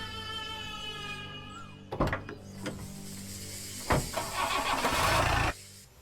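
A car engine cranks and catches, then revs as the vehicle pulls away, with clunks of doors or mechanisms before it and a loud roar building toward the end after a fading tonal note at the start.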